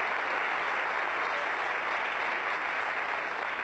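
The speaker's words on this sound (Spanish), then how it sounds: "Un aplauso muy bien recibido y muy bien merecido." Studio audience applause fills the room as a continuous, even roar of many hands clapping at moderate loudness, with no gaps.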